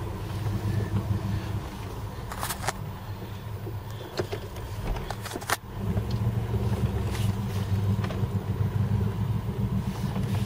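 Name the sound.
noisy car rear end while reversing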